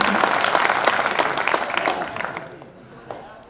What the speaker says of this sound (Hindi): अब इजाजत दे एक बार जोरदार ताली बजाकर